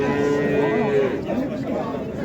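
A young bull calf moos at a busy cattle market in Qarshi, a long loud bellow followed by a shorter call over a background of crowd chatter.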